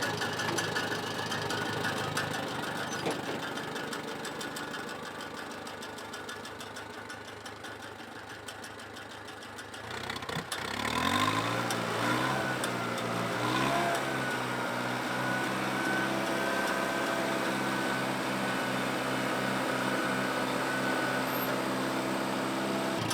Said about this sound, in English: That's the engine idle at about 2100.